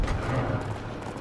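A horse galloping in a video game, rapid muffled hoofbeats thudding over a dense low rumble, close and steady for a brief stretch with no speech.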